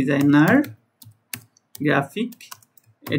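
A computer keyboard makes a few short clicks while text is typed into ChatGPT. The sparse taps fall in the gaps between a man's speech.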